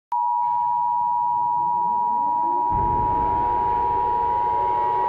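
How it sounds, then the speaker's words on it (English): A steady, loud emergency alert system broadcast tone holds one unbroken pitch for about five seconds, with a rumbling noise joining beneath it partway through. "This is an emergency action notification."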